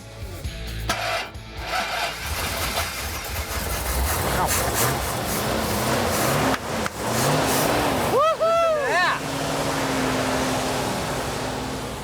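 An engine cranks and catches, then settles into a steady running rumble, with some clanking and a few voices in the background.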